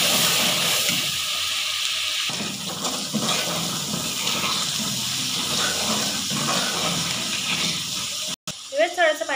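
Water poured into hot frying masala for aloo kofta curry sets off a loud, sustained hiss and sizzle that fades slowly, with a voice speaking near the end.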